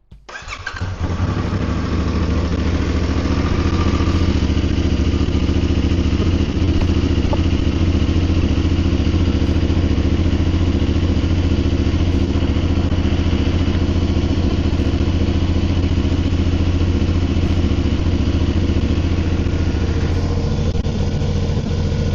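A motorcycle engine fires up after an oil change and settles into a loud, steady idle, close by with a continuous throaty rumble and light mechanical clatter lasting throughout.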